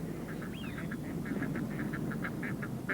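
Tame ducks on a decoy pond quack in a quick series of short calls, with one rising whistle-like note early on, heard moderately near over a steady low rumble of background noise.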